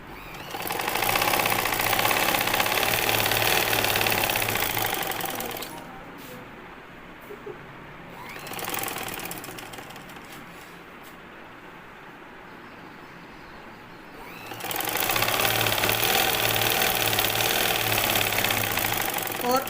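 A sewing machine stitches a belt shalwar in loud, steady bursts of rapid mechanical whirring, with a long quieter pause between the bursts and another brief run in the middle.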